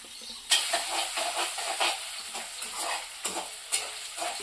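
Salted potatoes fry in a pan for poha and are stirred with a spoon, giving a steady close sizzle broken by repeated scraping and clanking strokes at an uneven rhythm, with no talking.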